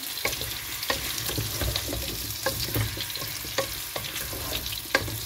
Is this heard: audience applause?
no